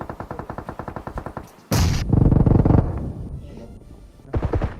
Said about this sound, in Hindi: यहाँ पे फुल कुक किया ग्रेनेड।